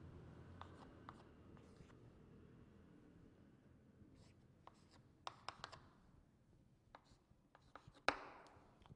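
Chalk scratches across a blackboard in a quiet classroom, faint taps and short strokes scattered over several seconds, ending in one sharper knock and scrape.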